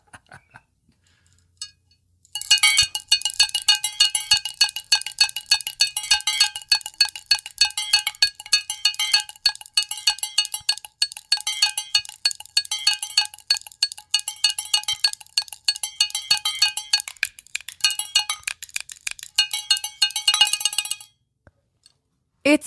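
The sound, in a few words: handmade shaker with one object inside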